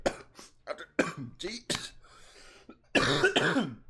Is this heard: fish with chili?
no